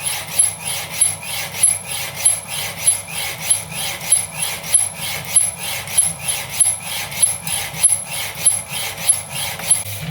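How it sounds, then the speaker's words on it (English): A power hacksaw cuts through a large piece of steel in a steady, repeating back-and-forth rasp, each stroke evenly spaced, close and moderately loud with no talking. "whilst the power hacksaw is doing its thing with that large piece of steel"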